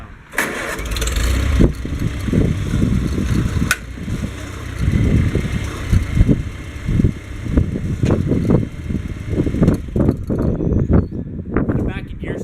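A Farmall Cub tractor with a snow plow starts up and settles into a loud, steady, close-up mechanical rumble that runs throughout, with people talking over it.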